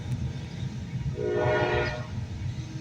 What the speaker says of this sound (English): That's a train going through up here.